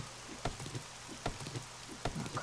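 Rain falls in the survival game 7 Days to Die as a steady, soft patter, punctuated by a few sharper drop-like ticks at irregular intervals, with no one talking.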